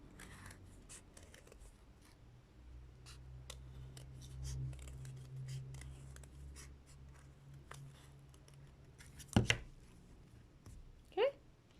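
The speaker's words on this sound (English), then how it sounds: "I'm going to cut this inner circle out as neatly as possible as well" Scissors snip steadily around an inner circle of card, a run of faint, crisp cuts with a couple of louder clacks near the end and quiet talk beneath.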